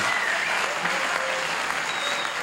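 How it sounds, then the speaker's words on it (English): A studio audience on a late-night talk show applauds, a dense, even clatter of many hands clapping that stays steady throughout. "And then the applaud again, in between."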